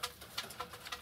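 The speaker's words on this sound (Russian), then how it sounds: "Вот сколько у меня тут голубей." A flock of pigeons coos softly outdoors, giving a quick run of faint, rhythmic, throaty pulses.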